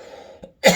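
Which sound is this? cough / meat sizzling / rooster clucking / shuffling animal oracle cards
cough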